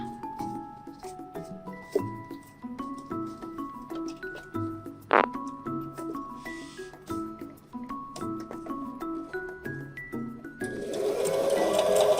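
A Brother GS2700 sewing machine stitching in short mechanical runs with rhythmic whirring and clicking, close by, one sharp tap partway through and louder noise near the end.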